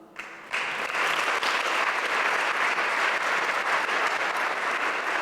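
Steady, dense applause from a crowd at a sports centre opening that starts abruptly after a brief quiet moment and continues at an even level throughout.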